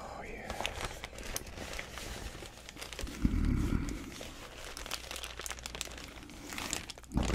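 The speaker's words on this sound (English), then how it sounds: "Absolute perfect crinkle." Fresh plastic bag crinkling close up, with irregular crackles and rustles throughout and a brief heavier crunch midway, a soft voice heard faintly at times.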